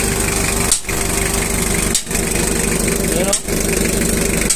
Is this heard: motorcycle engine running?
yes